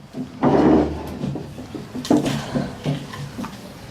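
Wooden chairs being shifted and straightened on a floor indoors: a few short scraping knocks and bumps close by, one longer drag near the start, with no talk over them.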